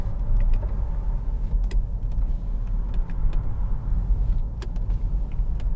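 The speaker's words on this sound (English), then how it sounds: "Electric window switches here, which" The electric windows of a 2013 Jaguar XF 2.2 TD Premium Luxury are run from their switches inside the car, a low steady motor hum under faint clicks and creaks, close and fairly quiet.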